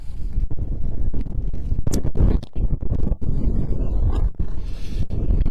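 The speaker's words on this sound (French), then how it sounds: "De la pluie, il y a du vent." Strong gusts buffet the microphone in a steady, roaring rush, with rain and outdoor noise blending into a constant dense hiss at a blind football match.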